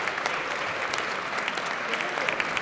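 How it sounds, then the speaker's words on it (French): Spectators at the FFT Padel Tour final in Nantes applaud after a rally, a dense steady clapping close by with scattered sharper claps and a commentator talking over it. "Alors là, les gens qui applaudissent."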